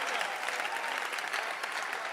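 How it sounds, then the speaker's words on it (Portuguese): Steady applause from a church audience in Mampong, Ghana, a dense wash of clapping hands that holds at an even, fairly loud level throughout. "Por que você não bate palmas para Jesus?"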